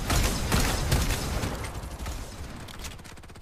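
Gunfire in the video game Farlight 84, a quick rattling burst of shots fading into lighter mechanical clicks over a few seconds.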